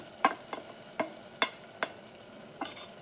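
Spices being stirred into frying mutton in a pan, a few sharp scraping stirs spaced irregularly over a faint sizzle, close up and with no talk.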